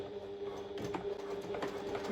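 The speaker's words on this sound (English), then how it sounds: "I am going to sew across there with another line of stitching." A sewing machine runs a line of stitching across a fabric pouch, making a short, quiet, close burst of rapid, even mechanical ticking.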